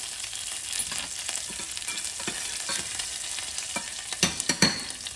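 Chilies hiss and crackle in hot oil alongside garlic, a steady sizzle broken near the end by a few louder stirring knocks against the pan.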